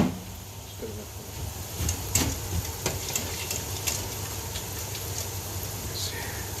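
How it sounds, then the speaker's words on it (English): Thick bechamel sauce is stirred in a pot on the stove for homemade moussaka, with a steady scraping swish and faint sizzling beneath a low background hum. "Stir it up."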